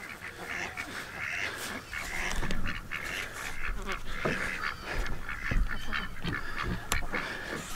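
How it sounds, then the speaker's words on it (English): Ducks on a homestead honk and quack in a busy, overlapping chorus close by, with calls bursting out repeatedly across the whole stretch and a few louder squawks standing out. "Ducks just like ran up here."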